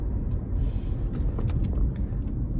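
Steady low road rumble from a car in motion, continuous and close, with faint interior clicks and knocks over the engine and tire drone.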